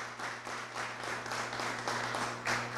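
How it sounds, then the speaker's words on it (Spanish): Audience applause at a music event, many hands clapping at a fairly faint, distant level over a steady low electrical hum, with the clapping pulsing in small swells. "le quiero un aplauso para Handy."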